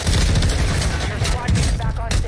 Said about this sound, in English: I'm getting shot from across the street